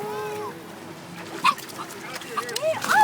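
A dog playing by the water in Waikiki gives short excited yips and whimpers, close by and intermittent, with people talking over the sounds.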